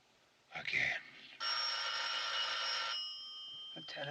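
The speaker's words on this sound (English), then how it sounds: "The telephone is ringing." A telephone rings with a sustained electric bell trill, loud and close, in a 1939 film, following a brief burst of voice and ending with a short second ring.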